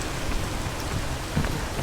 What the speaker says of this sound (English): Where was all this rain in the beginning?